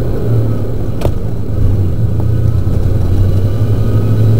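A small off-road vehicle, the Little Mule, drives along a gravel road with a steady loud motor drone and rumble, a couple of faint clicks, close and continuous with no talking.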